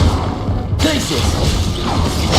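A Glacius freezing spell is cast in Hogwarts Legacy: a sudden bright, icy crash bursts in loudly after a moment, then fades into a dense, rumbling wash of combat noise.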